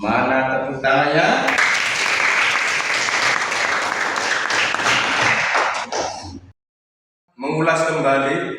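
A classroom audience of teachers at an Islamic lesson breaks into loud, sustained applause for several seconds, which stops abruptly. A voice speaks before and after.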